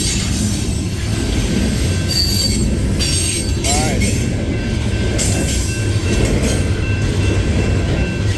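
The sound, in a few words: train passing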